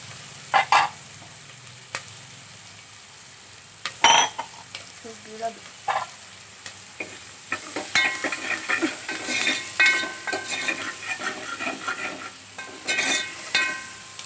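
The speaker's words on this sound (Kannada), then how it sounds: "ಈರುಳ್ಳಿ ಬೇಯಬೇಕು ಈರುಳ್ಳಿ ಕೆಂಪುಗಾಗಂಗೆ ಬೇಯಬೇಕು ಒಗ್ಗರಣೆ ಒಳಗೆ" Chopped onions fry in a tempering in a pot for bassaru, sizzling steadily while a utensil stirs and clinks against the metal in repeated close scrapes.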